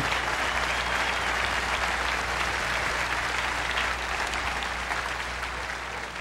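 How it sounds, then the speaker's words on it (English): Sustained, dense audience applause fills a large hall at the 1999 NFL Hall of Fame induction ceremony, steady and loud throughout before easing slightly near the end, with no voices over it. "Please stand up and get your applause."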